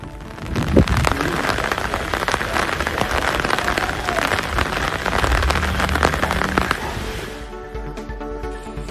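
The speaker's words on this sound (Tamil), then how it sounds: "சீர்காழி சுற்றுவட்டார பகுதிகளில் நேற்றிரவு மிதமான மழை பெய்தது." Moderate rain falls on coastal villages in the Sirkazhi area, a loud, dense patter on surfaces that stays steady for most of the stretch and then thins out near the end.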